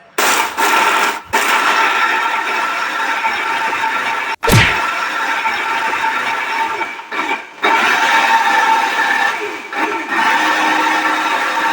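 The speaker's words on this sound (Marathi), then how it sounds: "आता याला आपल्याला मिक्सरला फिरवून घ्यायचं." A kitchen mixer grinder grinds biscuit crumbs with sugar, whirring loudly in several pulses separated by brief stops, with the motor surging again after each pause.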